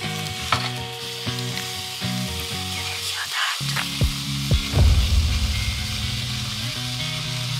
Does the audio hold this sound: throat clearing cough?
no